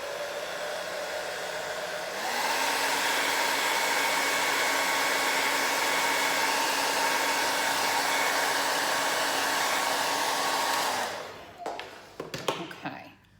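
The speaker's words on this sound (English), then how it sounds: "Let me hit it here with a hairdryer real quick." A hair dryer blows loudly and steadily, stepping up to a higher setting after a couple of seconds, then switches off, followed by a few light clicks.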